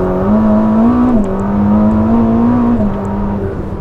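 Ferrari SF90 Stradale, a 1000-horsepower hybrid, revving hard with a steady droning engine note that rises, dips briefly and climbs again, loud and close with no voices.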